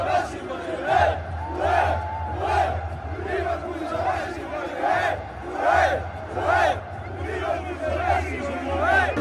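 Morocco football fans in a packed World Cup stadium clap and chant in a loud rhythmic unison pattern, roughly one burst per second, with a dense crowd roar underneath.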